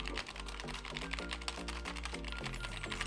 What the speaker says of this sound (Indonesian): ini tuh pokoknya mechanical keyboard terbaik ya yang pernah saya pakai